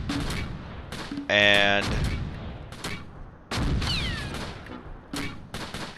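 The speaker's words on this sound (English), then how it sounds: "Let's go ahead and drop the mortars here." Mortar rounds and bursts of gunfire in the Close Combat WWII tactical game at Tourville, 28 June 1944, with repeated sharp shots, loud blasts and a steady tonal drone, while a voice talks briefly in between.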